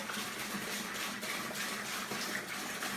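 Wort pouring into a home-brew fermenter makes a steady, continuous rushing splash of liquid, close and moderately loud, with an even flow throughout.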